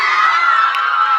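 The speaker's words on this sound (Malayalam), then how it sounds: "ആ സൈഡിൽ നിന്ന് ഒരു കൈയടി വരുന്നുണ്ട്" A crowd at a public event in Kerala cheering and shouting together, a loud, steady, close wall of voices with no breaks.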